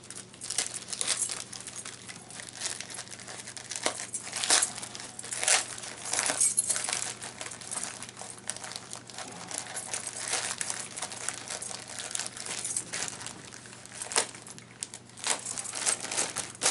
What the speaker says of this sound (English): Trying to cut without cutting what's in the package here, so it might look awkward.